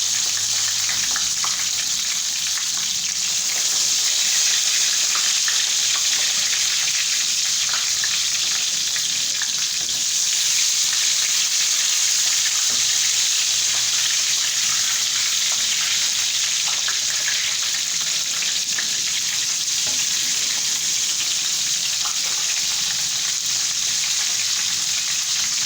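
Eggplant pieces frying skin side down in hot oil for dry baingan masala, giving a loud, continuous close-up sizzle and crackle that holds steady throughout with no speech.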